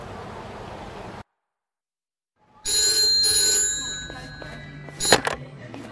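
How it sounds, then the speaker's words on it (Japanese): A telephone rings in a Yakuza: Like a Dragon cutscene after a stretch of near silence, a bright, steady electronic ringtone with a sharper clatter near the end. "俺宛に電話がかかってきた"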